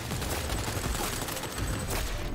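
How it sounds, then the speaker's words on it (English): Sustained gunfire from Cyberpunk 2077: Phantom Liberty, a dense, loud fusillade of rapid shots and bursts filling the whole moment with no talking over it. "Now they're shooting the president."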